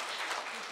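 A monk and an audience clap together at the BBS Beopsori 7th anniversary ceremony, a brief, dense burst of steady, close applause with no voices.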